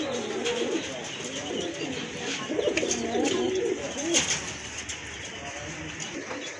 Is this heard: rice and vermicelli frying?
no